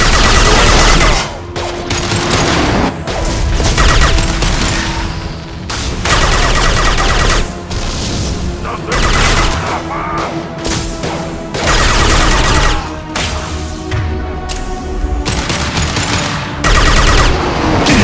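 Loud, sustained automatic gunfire from the video game Mass Effect 2 comes in long rapid bursts separated by brief gaps, with booming impacts layered through the firefight.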